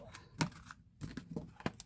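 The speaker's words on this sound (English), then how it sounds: "the way the cards sound when they shuffle" A deck of tarot cards is shuffled up close, giving quiet, crisp riffling clicks and soft slaps in quick, uneven bursts.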